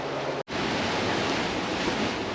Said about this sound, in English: boy, the wind is strong over here